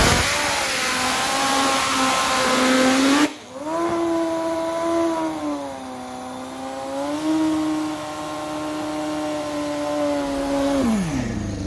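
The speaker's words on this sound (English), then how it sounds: "A big John Force style burnout for the fast Canadian to break in that tire" A turbocharged drag-racing motorcycle at a drag strip does a long, loud burnout to break in its tire, a high whining engine roar held steady with a brief dip, then rising in pitch before cutting off.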